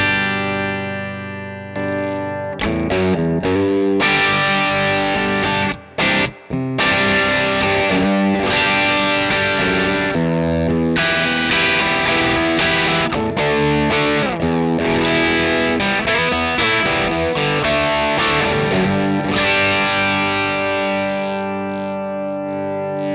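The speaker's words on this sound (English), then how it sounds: "we're kind of leaving overdrive and really entering distortion" Heavily distorted electric guitar played through a Oneder Effects Onederwall distortion pedal plays loud, sustained chords with a short choppy break in the middle, saturated and thick throughout.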